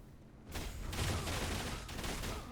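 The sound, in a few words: skill burst effect explosion in video game Torchlight: Infinite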